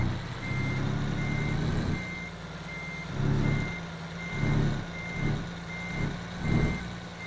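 A truck in American Truck Simulator backs up with a steady series of evenly spaced reversing beeps over a low diesel engine rumble that swells and eases a few times.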